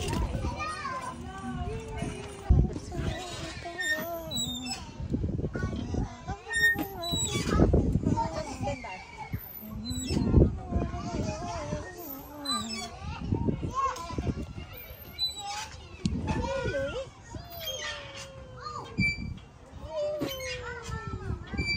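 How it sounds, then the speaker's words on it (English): Children play outdoors in a park with lively high-pitched shouts, squeals and chatter coming from several directions at varying distances. The activity continues without a break, and nearby voices also talk. "The sounds of kids playing and just the outdoors."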